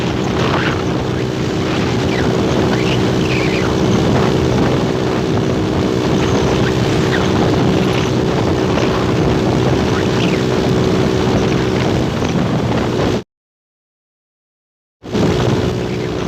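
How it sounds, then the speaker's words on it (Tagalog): Heavy wind roar buffets the microphone while riding a Honda Click 125 scooter at over 100 km/h, a steady broadband rush with a faint engine drone underneath, cutting out briefly near the end before resuming. "Sobrang lakas na ng hangin guys"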